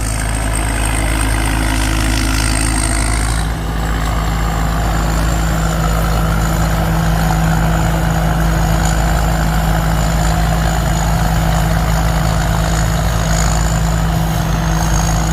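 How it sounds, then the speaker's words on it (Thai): A combine harvester cutting rice runs with a loud exhaust, a heavy, constant engine roar close by with a steady high whine over it, unbroken for the whole stretch and with no talking. "คันนี้เสียงท่อลั่นมากเลย"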